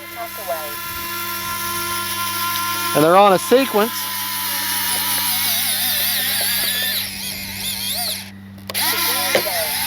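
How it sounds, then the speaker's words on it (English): Whirring servo noise from the retractable landing gear of a Dynam EMB-312 Tucano RC plane rises and falls over a steady mechanical hum, with a person talking briefly over it. "Now the gear are kind of noisy"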